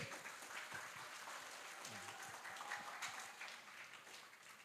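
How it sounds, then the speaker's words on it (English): Warm applause from a seminar audience for a speaker at an international tourism seminar, dense and steady at moderate distance for the whole stretch, with no voices over it. "please give the most warm applause to our speaker and also our moderators"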